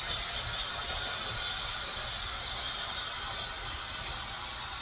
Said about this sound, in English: So now we can just totally steam clean our mattress.